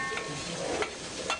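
Garlic sizzling in a frying pan, a soft, fairly quiet hiss with a few brief clinks or stirring sounds, heard alone in a short burst.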